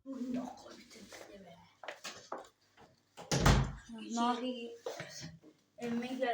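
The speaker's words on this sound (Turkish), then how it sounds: "Hadi git kapıyı da kapat öyle git." A door being pulled shut in a home: one solid thud partway through, surrounded by people talking.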